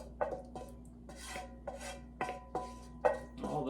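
A utensil scrapes browned bits from the bottom of a pan while making beef stew, about eight distinct rasping strokes at an irregular rhythm over a low steady hum, close and moderately loud.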